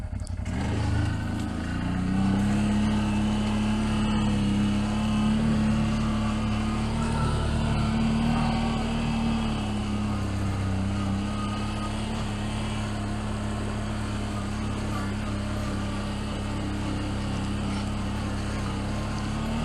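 A CFMoto CForce 1000 ATV engine drones steadily and close as the quad climbs a steep rocky trail, pitch rising and falling under load with rattling jolts, no talk over it.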